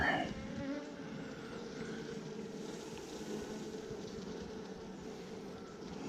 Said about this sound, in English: There's definitely more bees on these frames now.